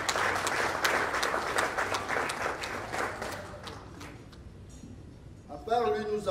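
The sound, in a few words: audience applauding a pastor at a dinner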